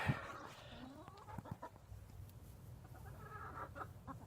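Backyard hens clucking outside the coop, a few soft close clucks and murmuring calls, fairly faint, with scattered rustling around them.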